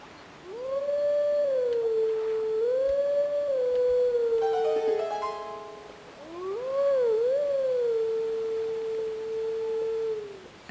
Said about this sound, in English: We can not blow this grass, so instead we will howl.